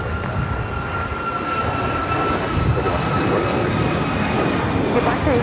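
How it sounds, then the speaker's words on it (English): An American Airlines Boeing 737 MAX 8 takes off at LAX, its steady engine roar filling the clip from start to finish, with a faint tone running through it and voices talking underneath. "This is American Airlines 3134 taking off to Miami, Florida on the MAX 8s."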